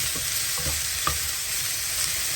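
Mushrooms sauté in a butter masala in a hot pan, producing a dense, even, close sizzle with a few faint spoon taps and no voices.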